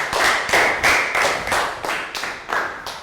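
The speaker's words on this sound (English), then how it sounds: "And round of applause for Prel" Classroom clapping for a Year 3 pupil: a group of children claps in unison in slow rhythmic bursts of about two per second, loud and close, with no talk.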